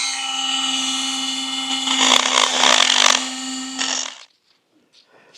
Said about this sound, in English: This is a very large crack, using a pretty big burr on it.